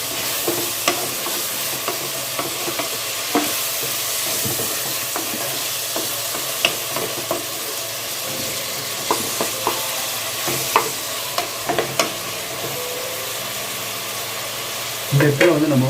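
Onion and tomato, the tomato seeded and only its flesh used, frying and being stirred in a pan for a white onion gravy, with steady sizzling and repeated scrapes and clinks of a spoon throughout.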